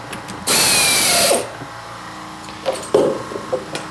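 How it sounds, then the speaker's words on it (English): CNC machine drilling a hole with a number 31 drill while making a pin spanner wrench: a loud, steady bright whine for about a second, then quieter clicks and mechanical bumps. "This is a number 31 drill."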